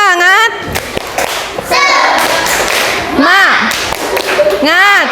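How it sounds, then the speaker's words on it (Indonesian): A primary school class performs a rhythmic 'tepuk semangat' clap chant, children's voices chanting loudly together with bursts of patterned claps and thuds, close and energetic, with a teacher's voice mixed in. "ayo tepuk semangat"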